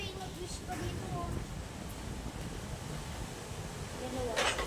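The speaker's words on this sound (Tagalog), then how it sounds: "Grabe hangin dito banda." Steady gusting wind roars across the microphone outdoors, a broad constant rush with faint voices now and then underneath.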